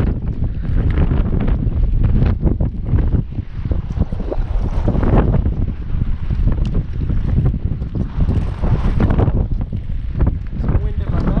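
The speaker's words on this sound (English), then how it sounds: "Some wind in my back here." Steady gusting wind buffets the microphone on a fishing boat during spring bass fishing in the Ozarks, a loud continuous rumbling roar with no letup.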